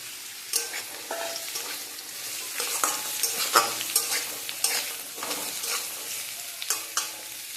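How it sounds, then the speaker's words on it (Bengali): Pointed gourd frying in a pan with a little salt, a moderate sizzle broken by repeated scraping and clinking stirs at irregular intervals, close and without talk. "শুকনো করে ভেজে নেব পটলটাকে একদম ভালো করে ভেজে নেব"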